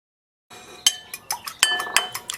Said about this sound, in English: I have 3 large eggs and I'm going to crack them into a bowl